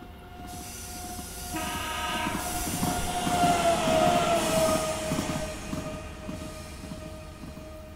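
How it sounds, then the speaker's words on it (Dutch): A simulated passenger train on a Terschelling route in Train Simulator 2020 approaches and arrives, a steady rumble of wheels on rails with a long sustained horn-like tone and rising squeal, continuous and moderately close, no voices. "Daar komt de trein aangereden"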